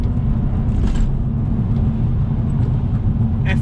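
A BMW M240i accelerates at full throttle on a wet road, its engine a steady, heavy low rumble heard from inside the cabin.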